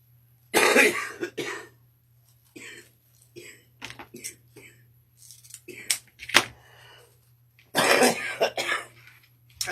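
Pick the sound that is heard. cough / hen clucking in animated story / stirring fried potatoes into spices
cough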